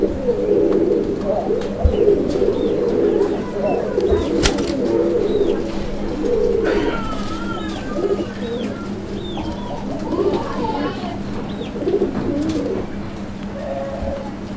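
Pigeons of the Raj-golla and Madrasi golla type, including a sky-blue pair, make repeated low, throaty coos close by, over a constant low hum and with occasional brief flutters.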